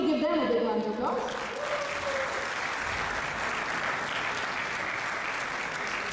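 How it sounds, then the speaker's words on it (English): A big round of applause from an awards and gala night crowd swells in as a voice trails off at the start, then settles into a sustained, even wash of clapping. "we need to give them a big round of applause"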